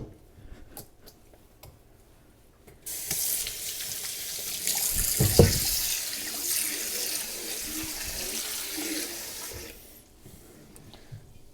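Water from washing flour for seitan is dumped through a colander, a loud rushing, splashing pour lasting several seconds before it tapers off to drips, with soft kitchen clatter before and after.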